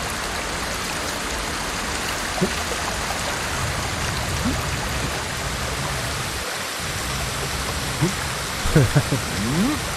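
Water rushes steadily through a landscape in Ghost of Tsushima, a dense, continuous wash of flowing noise with a few faint voice fragments rising above it.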